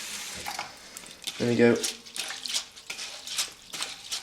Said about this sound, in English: Instead of sieving it, they I'm just draining the rice at the moment.